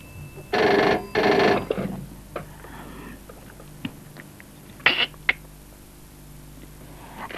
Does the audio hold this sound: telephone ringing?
yes